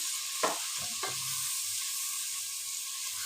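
Grated onion hits hot oil in a pan and fries with a steady bright sizzle, while a spoon knocks and scrapes through it a couple of times early on.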